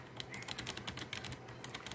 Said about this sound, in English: very soft to the touch, but still has that nice low click sound as a mechanical would have